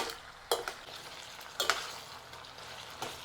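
Green beans and onions cooking in a pan, with soft sizzling frying noise and a few louder stirring scrapes and clatters spaced through, close and steady, no talk.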